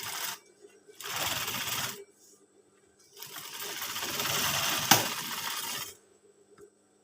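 A sewing machine stitches a scout uniform in two bursts of rapid whirring, each about one to three seconds long with a pause between, near and moderately loud, ending with a few faint clicks.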